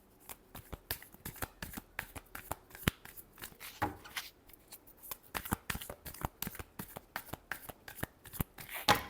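Tarot cards are shuffled by hand in quick bursts of crisp riffling and slapping, close and fairly quiet, with irregular pauses between rounds and no talking.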